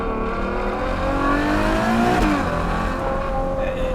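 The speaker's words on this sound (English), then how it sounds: "the exhaust barks beautifully, just beautifully" A Ferrari GTC4Lusso exhaust in sport mode roars under hard acceleration, pitch climbing through the revs with a brief dip and crackle midway, loud and close.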